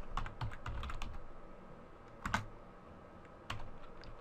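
Typing on a computer keyboard, soft clicking keystrokes in short irregular bursts with pauses between, quiet and close against a faint background hiss.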